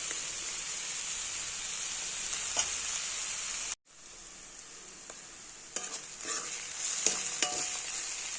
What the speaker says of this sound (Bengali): বাঁধাকপি ভাজা হয়ে গেছে, নামিয়ে নেব।